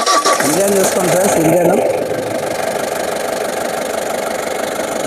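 A 2015 Mahindra Bolero Maxitruck Plus engine idles close up with a steady, even rumble throughout, while someone talks briefly over the first couple of seconds.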